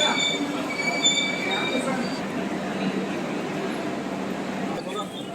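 The Vande Bharat Ranchi–Howrah train runs on a trial, making a steady rumble of rolling wheels with thin squeals of metal on rail. Voices murmur faintly nearby.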